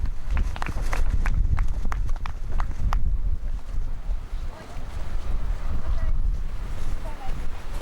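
Wind gusts across an open golf course during a women's match-play tournament, rumbling and buffeting the microphone in loud, uneven waves. Faint clicks and distant voices sit beneath the roar.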